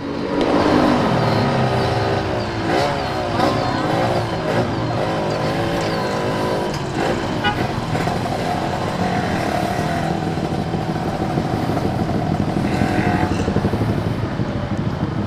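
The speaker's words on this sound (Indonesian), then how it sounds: "motor metikan." Motor scooters and motorbikes ride past nearby on Sudirman street, engines droning and revving steadily in continuous traffic.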